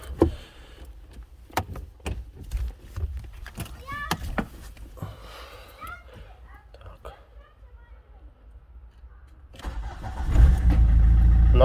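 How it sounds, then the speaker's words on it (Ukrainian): Fiat Scudo 2.0 JTD diesel van starting from cold: quiet rustling and a few clicks, then the starter cranks and the engine catches, rising to a loud steady rumble at the end, with soft talk early on. "Запуск на холодну."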